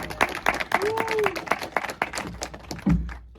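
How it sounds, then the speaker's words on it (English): Audience at a film screening Q&A applauds the director Ric Roman Waugh, a round of distinct, fairly close claps from a modest crowd that thins out toward the end, with a brief voice over it. "Let's give him a round of applause, everybody."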